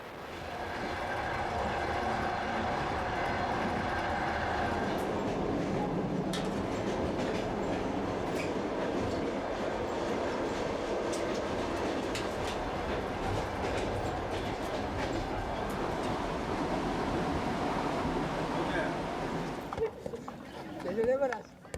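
A train rumbles steadily along the rails with a dense, continuous roar and faint rhythmic clatter, while a voice speaks over it; the noise drops away near the end.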